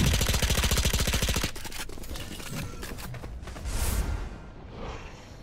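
Gunfire from a flower-skinned gun in Valorant, a fast rapid burst of sharp, evenly spaced shots in the first moment and a half, then quieter in-game clatter, footsteps and whooshes.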